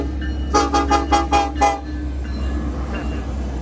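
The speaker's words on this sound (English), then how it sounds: "He's honking at you." A loud train horn sounds in a series of five rapid blasts, then fades into rumbling engine noise.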